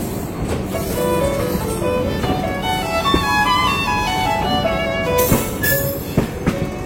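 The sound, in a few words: moving Jammu Tawi Express train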